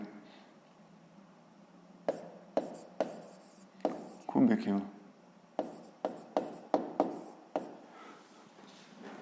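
Handwriting a sixth-grade math answer with a pen on paper: a series of short, scratchy strokes in quick bursts, close up, with a voice briefly speaking in between.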